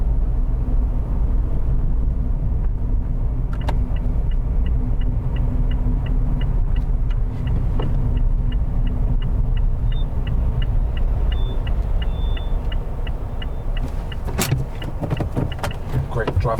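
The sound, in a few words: car pulling up on the left during a driving lesson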